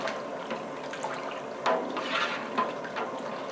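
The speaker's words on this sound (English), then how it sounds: "I want to add in the rest of the water right now." Water pouring into a large brewing pot while making mango seltzer syrup, a faint continuous splashing gush with a few louder surges, heard close with no talking.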